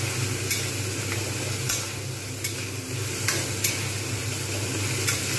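Masala for an egg omelette curry sautéing in a pan with a dense, steady sizzle, while a spatula stirs with light periodic scrapes throughout.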